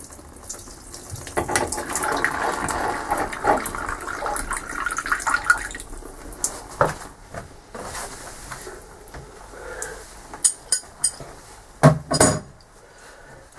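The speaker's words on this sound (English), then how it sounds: "That's just leaking a little bit of water that's left in the kind of" Leftover water trickles and splashes from a dismantled sink tap during a repair, a steady wash of running water for the first several seconds, then sparse clinks and knocks of metal parts and handling noises.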